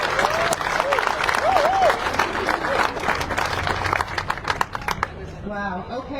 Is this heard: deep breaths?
no